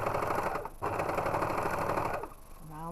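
A sewing machine stitching binding onto a garment neckline runs in a loud, steady close-up whir, slows briefly near the start, then cuts off near the end with a faint tonal hum trailing after.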